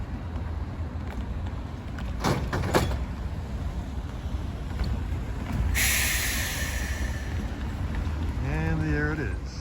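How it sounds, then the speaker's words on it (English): Railroad switches clunk and clatter at the Long Island Rail Road Mineola station during evening rush hour, a few sharp metallic knocks near the middle, then a hiss and a brief tonal squeal over steady station ambience. "Let's see if we can hear the switches being thrown back for mainline traffic"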